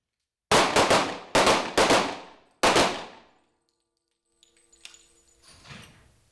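Police officers fire handguns during training at an outdoor Boulder police shooting range: about seven sharp, loud, close shots in quick clusters, each ringing out with a decaying echo, followed by quiet with faint distant clatter.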